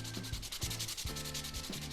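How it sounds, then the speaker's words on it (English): Micarta and wood knife handle scales are sanded by hand, with close, rhythmic back-and-forth gritty rubbing strokes repeating about every half second. "I'm going to do some hand sanding on these."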